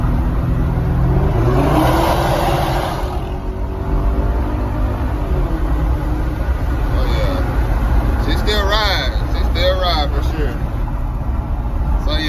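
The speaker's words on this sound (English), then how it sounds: "This straight pipe, no, no mufflers, no resonators" A Kia K900 with a straight-pipe exhaust and no mufflers or resonators, its loud, raspy engine note rising and falling with revs up close while someone talks over it.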